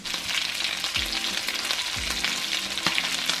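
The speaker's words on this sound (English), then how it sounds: "I added the shrimp on top, and I'm gonna want it mostly crusty fried on the bottom before I flip" Shrimp egg foo young sizzling in a frying pan, a steady loud crackle with a couple of low clanks as the pan or utensil shifts, no voices.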